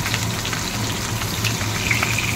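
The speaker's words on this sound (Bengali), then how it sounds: "ভাজা হচ্ছে, আর এখানে 4 পিস মাছ" Four pieces of fish fry in a pan, giving a steady, soft crackling sizzle with faint pops, heard close and continuous without any talk.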